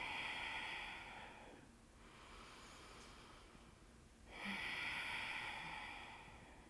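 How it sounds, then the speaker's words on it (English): Slow, deep belly breathing during a yoga cool-down, a soft airy inhale, a quiet pause, then another long breath, close and faint with no talk. "Breathe right into your belly."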